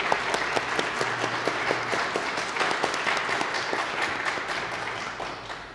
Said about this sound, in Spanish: Les damos un aplauso a nuestros invitados